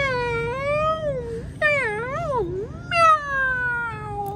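A cat meows repeatedly in long, drawn-out, wavering cries, close and loud, with a few separate yowls rising and falling over about four seconds and no talking.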